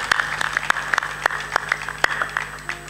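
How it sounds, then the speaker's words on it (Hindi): An audience claps for devotees at a Hindi spiritual gathering, with sharp, close hand claps in an uneven rhythm over a steady low hum and no talking. "ताली बजा दो।"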